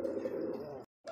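A domestic pigeon coos in a low, throaty rolling call, fairly quiet and close, sustained for most of the moment before a brief gap and a second coo starting.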